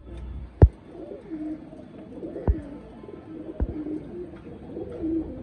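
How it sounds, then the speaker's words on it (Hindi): Soft, low coos from a pair of Teddy pigeons repeat gently in a quiet space, with a few sharp knocks or taps at intervals. "बहुत ही शानदार कबूतर है दोस्तों ये मेल, और इसके साथ ये फीमेल है।"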